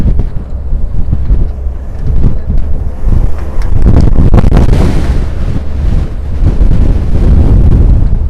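Strong wind in New York City near Roosevelt Island batters the microphone, a loud continuous roar with rough gusts that swell stronger midway and stay heavy to the end.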